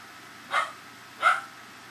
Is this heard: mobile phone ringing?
no